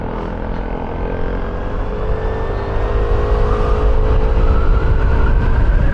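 An Aprilia SRGT 200 scooter engine pulls away and accelerates on the road, a steady mid-pitched drone rising gradually in loudness over rumbling wind noise close to the rider.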